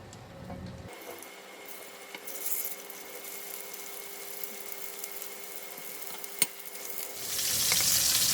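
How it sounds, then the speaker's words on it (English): Pieces of pork meat frying in two to three tablespoons of cooking oil make a continuous crackling sizzle, close and steady, with a brief clink midway and the frying growing louder and brighter near the end. "Putting about 2 to 3 tablespoons of cooking oil. I'm putting in the pork meat."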